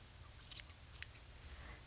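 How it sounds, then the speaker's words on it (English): Scissors snipping yarn while making washcloth house slippers, two quick, faint close snips in quiet surroundings. "Then you're ready just to snip it"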